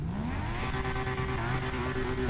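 A Nissan Skyline R34 engine revs steadily with a rising then held harmonic drone, loud and continuous, with no talk over it.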